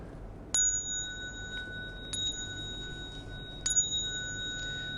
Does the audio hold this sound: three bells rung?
yes